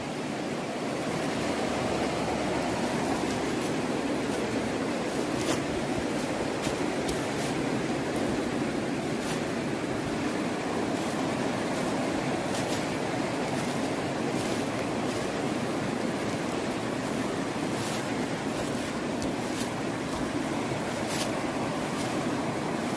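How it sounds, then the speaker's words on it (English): A mountain river in the Smoky Mountains rushes steadily, a dense, continuous roar of flowing water that holds at an even, loud level throughout with no voices. "But you cannot beat that sound of the river."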